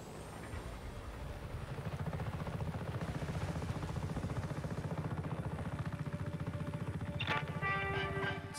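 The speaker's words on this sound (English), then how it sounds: "You can take this chopper, Frederick." A helicopter in Just Cause 3 gives a steady, loud, rapid rotor chop throughout, with a short metallic clatter near the end.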